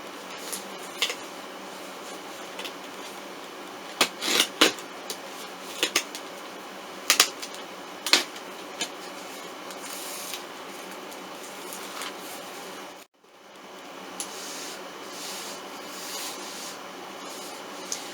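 Rainbow High dolls Sunny and Luna Madison are worked free of their plastic packaging fasteners, heard as scattered close clicks, snips and small plastic snaps spaced out over a quiet room background, with no speech.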